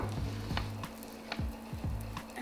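Fresh garlic and onions sauté in hot oil for wild turkey parmesan, a steady close sizzle broken by several quick scraping stirs of a utensil across the pan.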